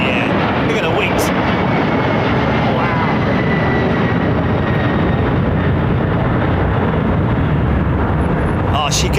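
A Boeing 767 jet airliner at London Heathrow Airport makes a loud, continuous roar that stays close and fills the whole stretch without a break.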